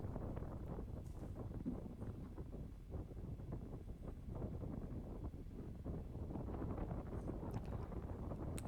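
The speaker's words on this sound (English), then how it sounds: "It is windier here, as you can hear." Wind blowing across a boat as it nears the dock in Bergen, Norway, a low steady rumble and buffeting on the microphone, fairly faint and continuous.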